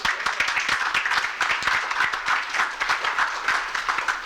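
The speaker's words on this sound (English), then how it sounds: "Please give them a big round of applause." Audience at a public library branch grand opening gives a round of applause, many hands clapping in a lively, uneven patter that stays steady and moderately loud throughout.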